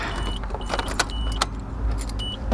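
A key is turned to the on position in a car's ignition, giving a few light metallic clicks and key jingles over a steady low hum inside the vehicle, close up.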